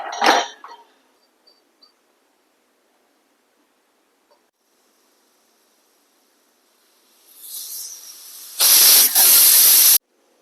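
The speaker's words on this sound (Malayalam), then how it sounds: "നല്ലൊരു ഒരു മൂന്ന് വിസിൽ കൊടുക്കാം നമുക്ക്" Pressure cooker cooking lentils, a few faint clicks and then a rising hiss of steam that bursts into a loud, sustained jet of release before stopping abruptly.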